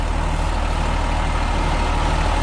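A Hino RK8J bus with a rear-mounted six-cylinder 7,684 cc engine rated at 251 horsepower runs steadily at idle. The engine gives a loud, close, low rumble with an even throb and no voices.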